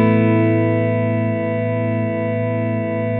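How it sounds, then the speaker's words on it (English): Sustained guitar ambient pad played through a Headrush MX5 with dynamic delay and long sustain, a steady swelling chord that holds evenly with faint pulsing repeats, close and moderately loud, no talking. "let me turn on the delay again and see if that sounds right."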